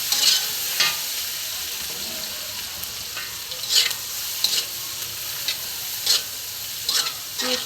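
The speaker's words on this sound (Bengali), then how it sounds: "পেঁয়াজটা ভাজা ভাজা হয়ে গেলে" Onions sizzle in oil left over from frying fish, a constant close hiss broken every second or so by brief scraping stirs of a spatula in the pan.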